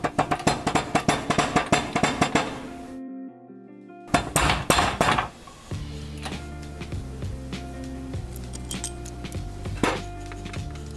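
Sharp metallic hammer blows drive the remaining bearings into a rear axle during a restoration, a rapid series of ringing strikes, a brief pause, another burst, then sparser taps over a low background hum.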